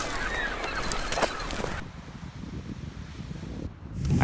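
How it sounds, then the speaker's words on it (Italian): Large colony of yellow-legged gulls on the Galician coast calling together, a dense wash of overlapping squawks and cries, loud at first and then thinning to a steadier background chatter. "questa è la più grande colonia al mondo dei gabbiani, quelli con le zampette gialle"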